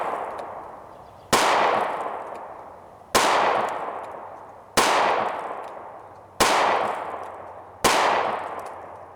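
Five loud, evenly spaced pistol shots from a Smith & Wesson M&P Shield fired at a target 20 yards away, each a sharp crack with a long ringing decay, about one and a half seconds apart with no talk.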